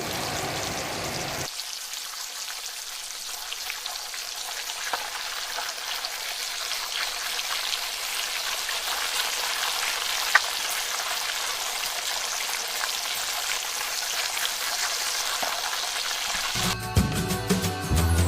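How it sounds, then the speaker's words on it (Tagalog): Garlic and then onion sautéing in a pan for macaroni soup, a steady bright sizzle and crackle that settles in after a brief quieter start and carries on evenly, close and moderately loud, with a shift in texture near the end. "ilagay na natin ang garlic. Pagkatapos, ilagay na rin natin ang onion."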